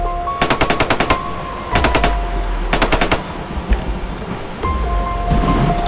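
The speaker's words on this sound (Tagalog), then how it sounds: "May putukan sa ibabaw, tol." Bursts of rapid automatic gunfire crack out overhead in three quick volleys, loud and close, with a low rumble between the strings of shots and no talk.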